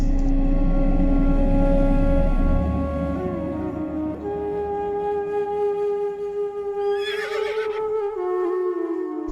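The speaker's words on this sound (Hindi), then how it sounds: "रात की सर्दी में घोड़ा बाजार में खड़ा हिनहिनाता रहा।" A horse neighs and whinnies in a long, loud call that wavers and then trails off, standing in a cold night-time bazaar with no voices around.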